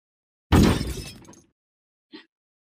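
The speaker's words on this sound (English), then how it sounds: "My Swedish crystal vase. It fell down." A Swedish crystal vase falls and shatters in one loud crash of breaking glass that rings out and fades over about a second, followed by a small tinkle of a last shard.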